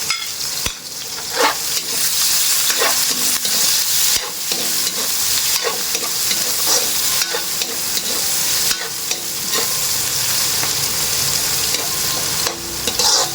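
Onion sautéing in a pan of hot oil for carp adobo: a steady, close sizzling hiss runs throughout, with scattered scraping and stirring clicks.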